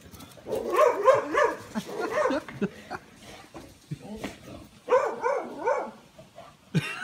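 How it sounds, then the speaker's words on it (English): A dog let outside making yipping, whimpering bark-like sounds in several close bursts, with short pauses between them. "It's my dog."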